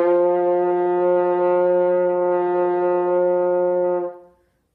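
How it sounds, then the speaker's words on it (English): A French horn plays a low C with open fingering, one steady sustained note held for about four seconds, full and close, ending with a short fade. "The fingering for that is just open and sounds like this."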